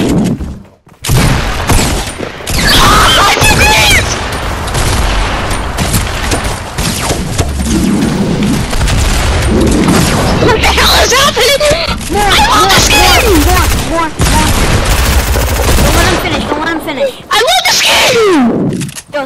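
Dense, loud gunfire bursts and booms from a shooting video game rattle almost continuously, with excited players talking over the shots.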